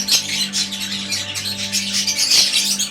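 Budgerigars, including DF violet and opaline birds, chatter and chirp in a small aviary, a busy layered twitter that runs continuously at close range.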